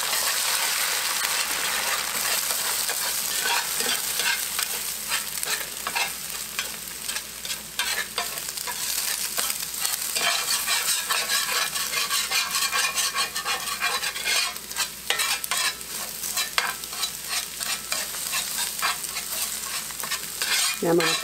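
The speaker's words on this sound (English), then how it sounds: "I'm just going to put this egg in here, and I hope that I can just scramble it like I'm supposed to here" Egg scrambles in an oiled pan for shrimp fried rice: a steady sizzle runs throughout, broken by frequent scraping and stirring strokes of a utensil against the pan, with no talking.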